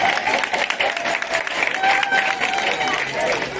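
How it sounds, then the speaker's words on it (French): A crowd at a school event claps throughout, with dense, continuous applause that sounds fairly close and lively, with faint cheering mixed in. "Applaudissez un peu pour moi."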